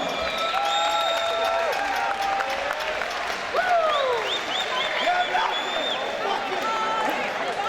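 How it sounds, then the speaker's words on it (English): Boxing arena crowd applauding loudly and continuously after a six-round professional bout, with whistles and cheering voices woven through the steady clapping. "Give these guys a big round of applause, please"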